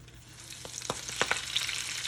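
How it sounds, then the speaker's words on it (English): Spinach hitting a very hot pan while cooking Steak Diane, a soft frying hiss with sharp crackles and spits that build over a couple of seconds, close and moderately loud. "You're gonna hear a sizzle for sure."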